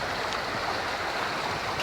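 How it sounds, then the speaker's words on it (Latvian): Fast, cold glacier-fed river in the Swedish wilderness, a steady close rushing wash of water with broad hiss that holds even throughout, no voices. "It kā straumi platums nav liels, bet ūdens nāk no ledāja."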